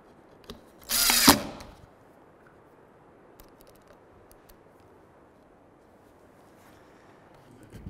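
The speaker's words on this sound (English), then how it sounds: "And putting in a few screws." A power drill drives a screw into a benchtop router table in one short, loud whir lasting about a second, then quiet workshop background.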